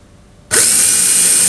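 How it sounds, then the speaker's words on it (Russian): A gate drive built from a cordless drill motor and an angle grinder gearbox, wired straight to a 12-volt, 15-amp power supply, starts abruptly and keeps up a loud, steady whine. "если я обычный привод на базе шуруповерта с редуктором от болгарки подключу напрямую к источнику напряжения"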